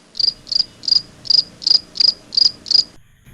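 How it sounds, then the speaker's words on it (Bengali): Crickets outdoors at night after rain trill in eight evenly spaced, loud, high-pitched chirps, one about every third of a second, close by and with no other sound. "বাইরেটা এত ঝিঝি পোকার আওয়াজ যে কি বলবো"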